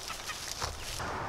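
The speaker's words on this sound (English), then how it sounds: "it's definitely great to see these broilers out acting as chickens should act" Broiler chickens clucking on a farm, ranging outdoors: a close, busy jumble of clucks and short calls runs throughout at moderate loudness, with no one speaking.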